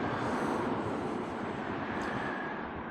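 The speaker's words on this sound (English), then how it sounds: "I don't know if you can hear the traffic above me" Road traffic roars steadily on a highway bridge overhead, carrying eastbound and westbound lanes, heard from the river below as a continuous broadband rumble without breaks or distinct passes.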